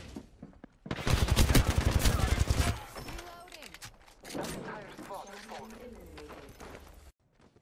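Rapid bursts of automatic gunfire from an Apex Legends match on Kings Canyon, loud and dense for about two seconds, then thinning into scattered shots and game effects under faint chatter.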